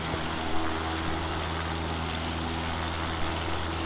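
A steady, droning single-engine propeller hum from an X Cub light airplane in flight over Carmel Valley as power is reduced for a hillside landing, loud and continuous throughout.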